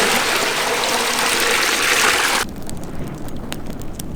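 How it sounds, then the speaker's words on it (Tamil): Water poured into a cooking pot over an outdoor village fire for a spicy mutton leg gravy: a steady, loud gushing splash that cuts off abruptly partway through, leaving quieter crackling behind. "கொஞ்சம் தண்ணி ஊற்றி விடுமுக்கா."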